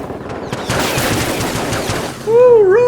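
A burst of rapid gunfire in the video game Generation Zero crackles close and loud for about two seconds. A rising and falling electronic whine then takes over.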